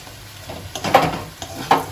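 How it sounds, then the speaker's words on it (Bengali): A spoon stirs garam masala into a dried lote fish curry in a pan, giving a few close scraping strokes over a soft, steady sizzle. "গরম মশলাটা দিয়ে একটু নাড়াচাড়া দিয়ে মিশিয়ে এটা সম্পূর্ণ রেডি"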